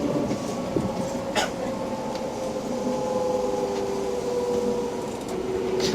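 A Tokyo Metro 6000 series train, set 6118F, known for an unusual running noise, travels between Shimokitazawa and Kyodo. A continuous rail rumble carries a rising and falling motor whine, with a few faint clacks of the wheels.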